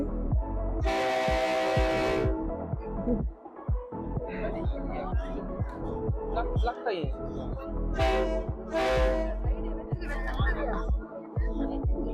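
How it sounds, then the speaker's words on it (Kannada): A train rolls past near a market in Thailand with a rhythmic clatter of wheels and two loud horn blasts, while people talk in the background. "ಸೊ ನಿಮ್ಗೆ ನೋಡ್ಬಹುದು ಟ್ರೈನ್ ಬರ್ತಾ ಇದೆ ಇಲ್ಲಿ"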